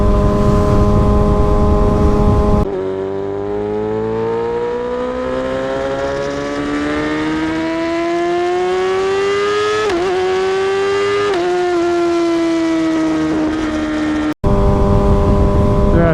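Exhaust of a 2023 Kawasaki ZX6R motorcycle while riding, a loud sustained engine drone rising and falling in pitch as it accelerates and shifts, close and steady with brief wind noise at the start and end.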